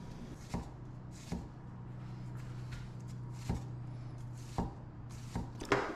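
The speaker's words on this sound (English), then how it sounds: "I'm cutting a white onion" A knife chops through a white onion on a board in a home kitchen, giving several sharp, separate thuds at an irregular pace over a low steady hum, with no talk.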